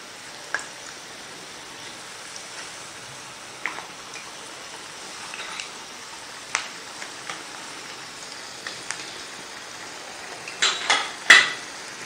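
Cone samosas frying in hot oil still in their molds, a faint steady bed of sizzle broken by scattered sharp clicks and taps of tongs and metal, with a brief louder cluster of clinks near the end.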